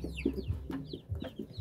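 Hens on a small farm cluck and murmur in short, repeated bursts, several birds calling close by over a quiet yard with no talking.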